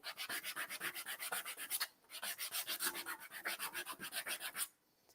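Rapid back-and-forth rubbing strokes work through a still-soft ivory lacquer finish, a close scratchy rasp in fast rhythmic bursts, with a brief pause near two seconds and a stop just before the end.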